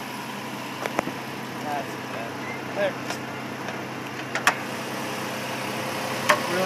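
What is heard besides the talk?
Toyota Highlander hybrid engine running after being turned on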